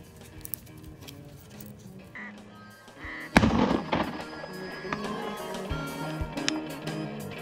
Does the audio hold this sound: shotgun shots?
yes